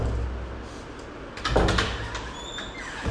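A door being pushed open while a person struggles with a load of luggage on the way out, giving a brief mid-clip rattle and knock at close range over steady room noise.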